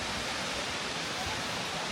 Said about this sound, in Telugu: ఇక్కడ కిందికి చూస్తే మీకు వాటర్ ఫాల్ కూడా కనబడుతుంది